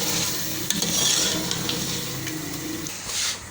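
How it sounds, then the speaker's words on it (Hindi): Beef palak gosht with garam masala frying in a pan, a steady close sizzle with brief stirring scrapes throughout, no voices. "इस स्टेज पर 1 टीस्पून गरम मसाला पाउडर और अब हम इसकी भुनाई कर लेंगे"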